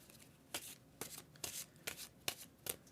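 Tarot cards, slightly sticky from high humidity, being shuffled by hand in a quiet room: six crisp riffling bursts come at a steady rhythm about half a second apart, close and fairly soft.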